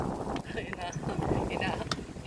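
Steady wind buffets a tripod-mounted microphone in a garden with a constant low rumble and roar, with faint voices underneath.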